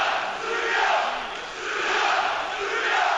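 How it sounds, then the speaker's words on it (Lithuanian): Basketball fans in an arena at a EuroBasket 2005 Serbia–France game chanting "Serbia" in a loud, rhythmic two-part roar that swells and dips, filling the hall. "O jūs girdite, kaip sirgaliai skanduoja Serbija,"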